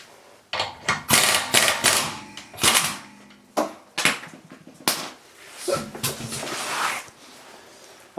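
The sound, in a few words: wrench removing Audi A3 wheel nut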